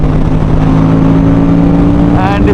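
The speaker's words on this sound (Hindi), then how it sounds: "एग्जॉस्ट नोट तो ऑब्वियसली बढ़िया है" A fully modified Aprilia RS457 motorcycle with no dB killer fitted holds a loud, close, steady droning exhaust note, with a brief higher rising whine near the end.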